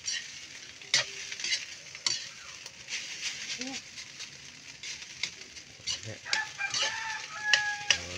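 Breakfast food frying in a pan, with a busy crackling sizzle and scattered clinks of stirring; a rooster crows in the background and a voice briefly murmurs.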